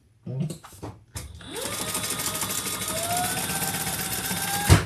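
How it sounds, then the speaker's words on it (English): Sewing machine stitching steadily for about three seconds, a continuous close whirring hum, preceded by a few brief handling knocks and ending with a sharp clunk. "I didn't get this stitched. Let me stitch this."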